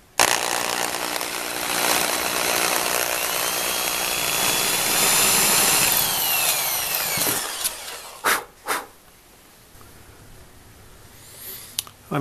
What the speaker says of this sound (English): Let's get a drill and put some pilot holes in.